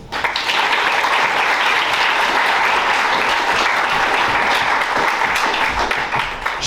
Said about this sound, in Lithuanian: Mielieji, pasveikinkime juos plojimais.